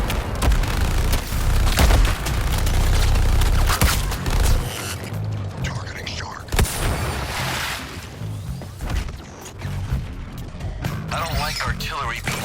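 Heavy booming blasts and cannon-like explosions in Suicide Squad: Kill the Justice League roll in, loud and rumbling at first, then scattered bursts continue under a talking voice.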